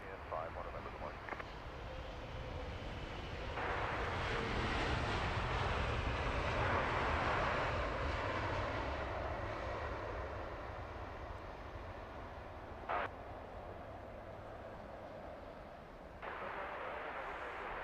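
A jet airliner lands at London Heathrow Airport on a calm morning, its engine roar swelling and then easing into a long steady rush of rollout noise, distant and broad, with radio chatter and a voice talking over it.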